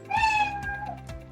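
A single Scratch cat meow sound effect rings out clearly and close, a smooth sustained meow that slides down at the end, with no voices over it.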